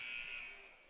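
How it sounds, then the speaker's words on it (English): A one-minute buzzer at a varsity girls' basketball game in a gym, heard as one steady, continuous electronic drone lasting under a second, fairly quiet and alone with no talk over it. "there was the 1 minute buzzer"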